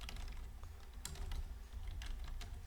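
Quiet typing on a computer keyboard, with quick irregular clicks and a few heavier key presses like the enter key, close up and faint, with no speech.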